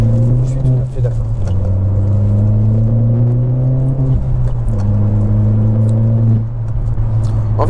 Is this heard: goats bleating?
no